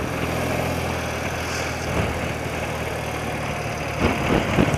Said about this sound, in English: Wow, that wind is tough.